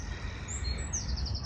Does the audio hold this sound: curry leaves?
no